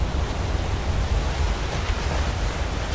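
Steady, dense rush of falling water from a waterfall in the Skyrim video game, continuous broadband roar close by with no breaks, heard alone without talk.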